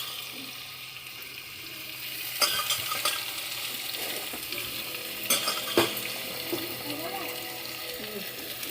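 Potatoes frying in hot oil with dried red chilli, radhuni and panch phoron, a steady close sizzle broken by sharp scrapes and clinks of stirring.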